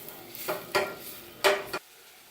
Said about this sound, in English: once the onion is in the butter, we're going to stir it